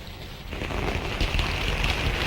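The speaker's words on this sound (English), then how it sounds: "It is raining." Steady rain falls outdoors as a continuous hiss that swells slightly after the first half-second and then holds even throughout.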